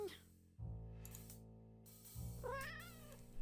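A cat-like meowing character voice in a video game: two long drawn-out meows over a steady low hum, with a wavering high tone near the end, clear and close.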